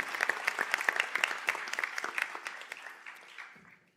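A crowd at a university graduation conferring ceremony applauds with dense, lively clapping that gradually thins out and fades toward the end.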